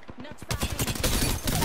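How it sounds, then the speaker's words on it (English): Rapid video game gunfire crackles in a dense, loud burst that starts after a short lead-in of a few separate shots and then continues without letup. "Listen up, I'm getting shot at."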